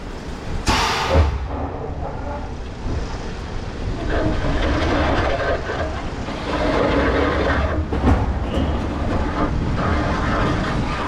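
A steady rumbling roar of a coaster train on The Big One at Pleasure Beach Resort during a test run, with clattering and a rushing swell partway through, heard from a distance with no voices.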